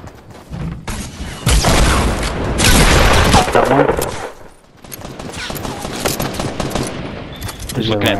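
Loud, sustained automatic gunfire from a video game shootout, dense bursts with booming impacts that swell and fade, briefly under excited talk.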